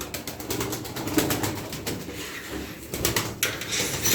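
Erzurum white (Sütbeyaz) play pigeons cooing inside a loft, with soft, continuous murmuring coos and faint wing and shuffling noises close by, a steady busy bird chorus with no talking.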